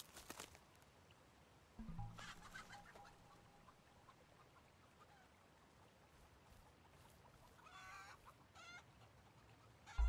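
Chickens clucking in the neolithic survival crafting game Polylithic, scattered faint clucks over a steady outdoor ambience with a few brief rustling bursts.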